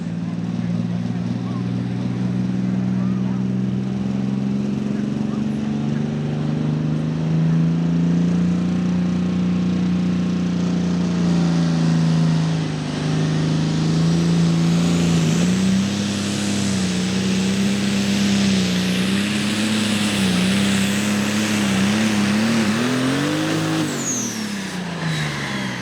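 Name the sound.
diesel Allis-Chalmers tractor in tractor pull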